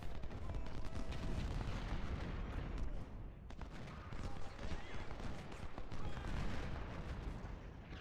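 Artillery and gunfire rage in the Civil War strategy game Ultimate General: Civil War during the Battle of Cold Harbor, a dense, continuous roar of cannon booms and musket crackle that barely lets up.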